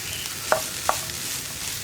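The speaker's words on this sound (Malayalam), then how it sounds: "ഹൈ ഫ്ലെയിമിൽ വെച്ചിട്ട് തന്നെ മിക്സ് ചെയ്ത് കൊടുക്കാം" A spoon scrapes twice through taro stem thoran in a pan on high flame, sharp clicks over a soft continuous sizzle with no talking.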